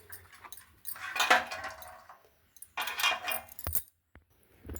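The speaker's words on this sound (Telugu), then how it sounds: "గుడ్లేమో నీటిలో వేసేసుకుందాం" Eggs placed one after another into a pot of water, faint clinks and knocks against the pot in two short bursts with quiet gaps between; no talk.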